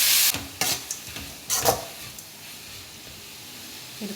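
Chicken filling with chilli flakes is stirred in a hot pan, with bursts of loud sizzle and spatter at the start and around the middle, then a softer frying hiss and occasional utensil scrapes.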